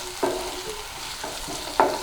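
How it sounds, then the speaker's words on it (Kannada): Ginger garlic paste fries in a pan with onions for chicken liver fry, a soft steady sizzle punctuated by three distinct scraping strokes of a spoon, heard up close with no talking. "ಇವಾಗ ಇದಕ್ಕೆ 1 ಸ್ಪೂನಷ್ಟು ಶುಂಠಿ ಬೆಳ್ಳುಳ್ಳಿ ಪೇಸ್ಟ್ ಹಾಕ್ತಾಯಿದ್ದೀನಿ. ಹಾಕಿ ಒಂದು 30 ಸೆಕೆಂಡ್ಸ್ ಹಾಗೆ ಮಿಕ್ಸ್ ಮಾಡಿ"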